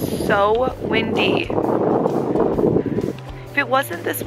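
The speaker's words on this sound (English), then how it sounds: "It is so windy." Strong wind roars and buffets the microphone during a snowy blizzard in Washington, DC, while a person speaks over it, the gusting rumble continuous and close.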